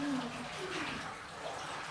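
Water pours steadily into a pot of spices for karela gosht, bitter gourd with meat, with a soft rushing, splashing sound, fairly quiet and close.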